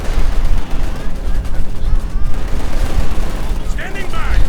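Gunfire and artillery rumble through a war video game battle, a dense, continuous roar of distant shots and booms with no clear pauses, heard without speech.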